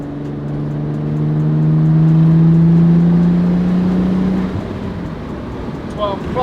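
A Nissan 300ZX engine, running lean on a suspect old fuel system, pulls hard in a quick burst. It is a loud rising drone that peaks after about two seconds, then fades as the throttle lifts.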